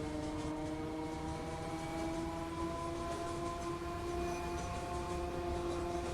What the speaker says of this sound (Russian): Мы проезжаем какие-то стрелочные переводы уже, потому что приближаемся уже к основной станции.